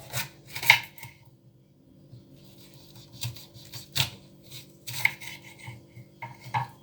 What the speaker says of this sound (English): Always put your green pepper on this side down and just cut all the edges